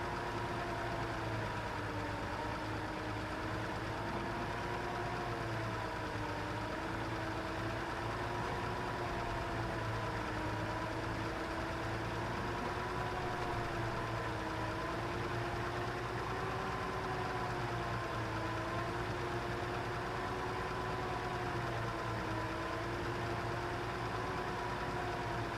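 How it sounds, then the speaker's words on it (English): Truck engine idling in an off-road trucking video game, a steady low, faint rumble with a gently wavering hum that continues unbroken and alone. "Let's listen to those lovely engine tones instead."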